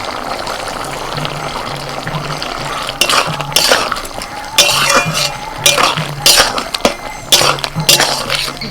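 Bitter gourd pieces clink and tumble into a pan of half-boiled potatoes, a run of sharp metallic knocks and scrapes from about the third second on, close and fairly loud over a low steady background hum.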